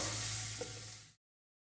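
Grated carrot fries in a pan, a steady close sizzle that runs for about a second before cutting off abruptly.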